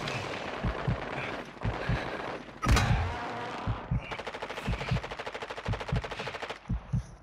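Rapid automatic gunfire in Call of Duty Warzone, bursts of sharp shots with one heavy blast and a sustained rattling volley, loud and close, no speech audible.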